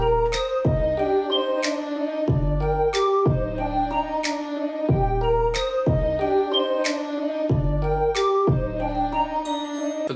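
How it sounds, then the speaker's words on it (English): Drop played on violins and a weird synthesizer: a repeating bouncy riff of plucked-sounding notes over deep pulsing bass hits in a steady loop, loud and alone. "so I tracked it on some violins and a weird synthesizer."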